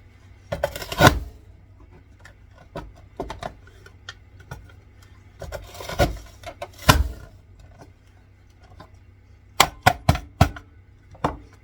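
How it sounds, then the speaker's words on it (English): Sharp knife chops through an onion on a cutting board, irregular at first, then a quick burst of four rapid strokes near the end; no talking. "As long as I'm chopping, I might as well chop up an onion."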